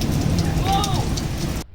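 Steady rain falls during a thunderstorm in the city of Somerville, a loud, close, even hiss of drops with a brief tonal call over it, cutting off abruptly near the end.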